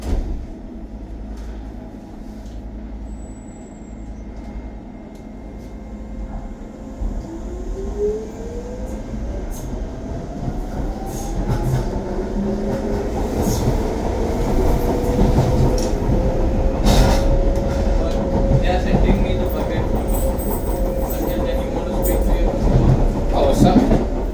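Riding a London DLR train from Tower Gateway toward Beckton: a steady rumbling cabin drone with rising motor whine and rail clatter builds over the run, while passengers talk faintly in the background.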